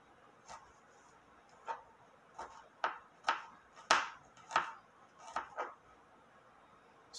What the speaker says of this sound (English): I just like these ones for cutting garlic like this.